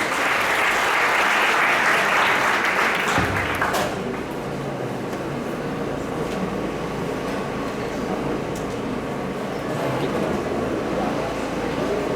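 Audience applause at a Japanese-Philippine urban redevelopment conference welcoming the first speaker, a loud sustained round of clapping for about four seconds, then fading into a steady room hum with faint movement.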